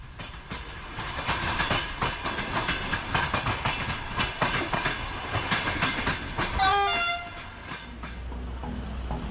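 A high-speed Eurostar Velaro train runs between Paris and London, a steady rolling rumble with rhythmic clickety-clack and a brief horn-like tone near the end, no voices.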